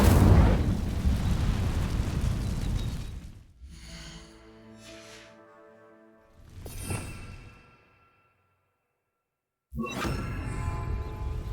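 Incendio fire spell cast in the video game Hogwarts Legacy, a burst of roaring whoosh followed by quieter magical shimmering tones, another short flare, a silence, then a fresh rush of noise.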